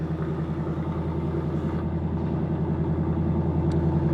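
2024 Ford Mustang Dark Horse V8 with an H pipe idles warm at close range, a steady, throbbing low burble with regular pulses and no talk.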